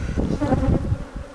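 Honey bees buzzing at an open hive being supered in Tiffin, Ohio, a dense, close drone of many wings filling the brief moment without any voices.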